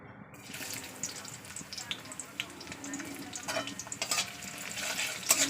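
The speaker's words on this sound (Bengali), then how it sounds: "দেখতে পাচ্ছেন তেল গরম হয়ে গেছে, এবার দিয়ে দিচ্ছি পেঁয়াজ" Onions go into hot oil with a continuous close sizzle that grows gradually louder, dotted with crackles and light scraping from stirring; no talking.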